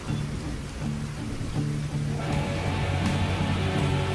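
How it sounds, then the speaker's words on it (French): Rain falling in the video game Nevermind, a steady broadband hiss with low rumbling undertones and game music tones layered over it, continuous throughout. "Ok, donc il pleut."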